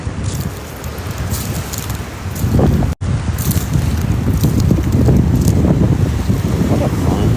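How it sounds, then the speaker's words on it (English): Strong wind on a beach buffets a microphone hidden inside a sweatshirt, producing a constant loud rumbling roar with gusty swells and a brief dropout partway through. "It's kind of windy out here."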